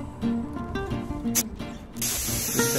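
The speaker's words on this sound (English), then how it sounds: "you can do both the base coat and the lacquer with spray guns, with spray cans" A close hiss from an aerosol spray paint can sprays in a short burst near the end, following a few seconds of quieter background sound, while painting a Peugeot 107 rear spoiler.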